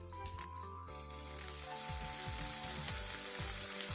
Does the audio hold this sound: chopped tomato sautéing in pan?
yes